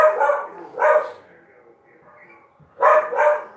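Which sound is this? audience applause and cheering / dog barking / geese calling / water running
dog barking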